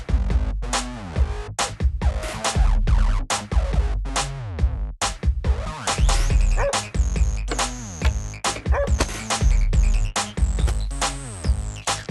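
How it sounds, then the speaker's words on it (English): A farm dog barks in short, sharp bursts, loud and close, repeating in an uneven rhythm across the whole stretch with no voices. "D-O-G. Dog."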